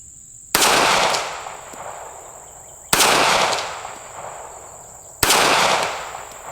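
Three loud, sharp pistol shots from a Smith & Wesson Bodyguard 380 2.0 fired at an outdoor steel plate, evenly spaced about two seconds apart, each with a long trailing decay.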